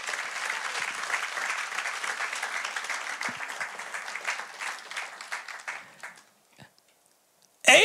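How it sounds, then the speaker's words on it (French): A church congregation claps and cheers during a service. The applause is loud and sustained, then thins out and stops, leaving near silence before a sudden sound at the end. "Acclamons très fort le Seigneur."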